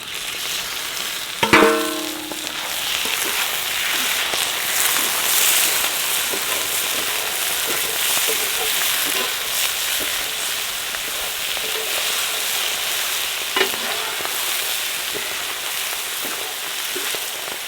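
Loud, steady sizzling of chicken liver frying in a pan, with a sharp clatter near the start and occasional light scrapes of stirring.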